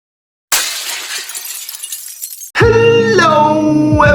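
An object smashes and glass shatters in slow motion: a sudden loud burst of breaking glass spreads into a long, scattering tinkle of fragments, then cuts to a loud sustained tonal sound.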